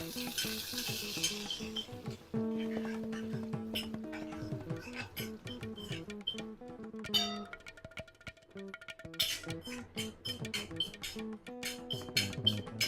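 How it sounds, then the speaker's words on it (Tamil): Boiled taro root (colocasia) sautéing in a pan with tempering of urad dal and chilli powder, steady sizzling and frying with frequent stirring scrapes, close, continuous and moderately loud. "வேக வச்ச சேப்பங்கிழங்கு வதங்கட்டும்."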